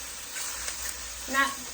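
Mushrooms and carrots sizzle in a pan as vegetables cook for Filipino pancit canton, a soft steady frying hiss with a brief louder stir near the end.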